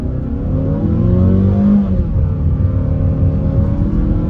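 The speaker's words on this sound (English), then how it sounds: "try an acceleration run off the line, and see how this all-wheel drive can really perform" A 2022 Mazda CX-5 with all-wheel drive pulls away hard from a stop, a loud in-cabin engine drone rising in pitch with a brief dip at a gear change.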